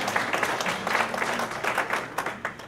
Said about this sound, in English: That usually gets a round of applause.